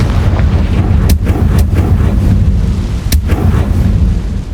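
The Confringo blasting spell in Hogwarts Legacy goes off as a loud, deep, rumbling blast, with several sharp cracks bursting over a heavy, sustained roar.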